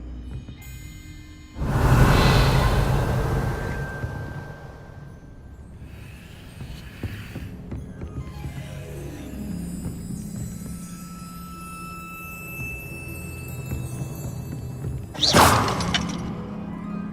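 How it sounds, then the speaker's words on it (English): In the video game Hogwarts Legacy, a gate mechanism gives a heavy thud with a crashing, shattering burst. A grinding mechanical rumble with tonal whirs follows and continues, then a sharp swooshing impact near the end. No one speaks. "That looks as if it might raise the gate."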